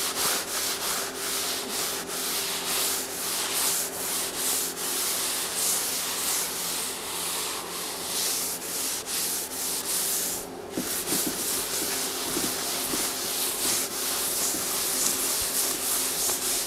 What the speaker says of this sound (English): I put it on thick and now I'm wiping it off.